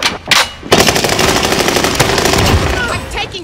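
Call of Duty Warzone gunfire on Rebirth Island, with a loud, close, sustained automatic burst that follows a couple of brief shots and holds for about three seconds.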